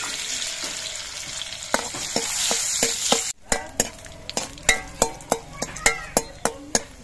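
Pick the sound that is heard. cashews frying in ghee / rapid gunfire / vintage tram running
cashews frying in ghee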